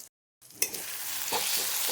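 Ground coriander, meat masala and turmeric sizzle in oil for a chicken dish, starting after a short silence with a sharp burst, then a steady close fry with stirring scrapes.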